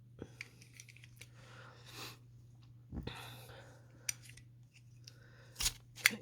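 Scissors snip through crochet yarn to cut it off a small finished flower, with a few quiet, close clicks and snips spread over a low steady hum.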